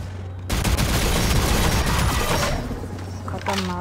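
Rapid gunfire from a gun in the online first-person shooter Shadowgun, a loud, dense volley of overlapping shots that runs for about two seconds and then thins into scattered game sounds.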